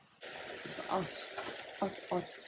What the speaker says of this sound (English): The mixing of the noodles and the stir frying